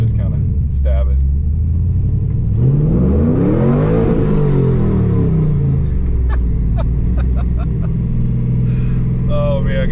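A Camaro accelerates hard in first gear, its engine note climbing sharply in pitch under a steady low rumble before the revs drop at the upshift. Close in-cabin sound, with a voice speaking over it.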